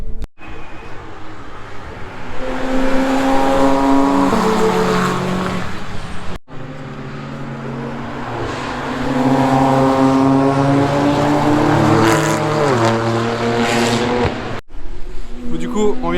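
Cars roar past one after another on the Nürburgring circuit, loud engines rising and falling in pitch as each passes close by, with a brief gap between passes and people talking in French over them.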